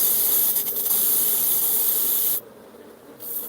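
Insecticide spray aimed directly at wasps on a parapet, a steady close hiss lasting over two seconds before cutting off, followed by quieter background.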